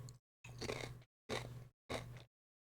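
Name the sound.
crunching a tortilla while eating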